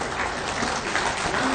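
Brief, dense applause from an audience at a government appointment letter ceremony, a short burst of steady clapping without talk.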